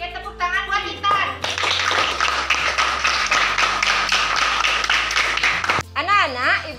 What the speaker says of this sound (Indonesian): Oke, tepuk tangan buat Intan.